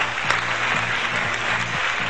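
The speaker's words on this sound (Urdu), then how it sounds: "بہت صحیح تالیاں ان کے لیے" A studio audience on a Pakistani morning TV show claps in a steady, full burst of applause that holds evenly throughout, with no voices over it.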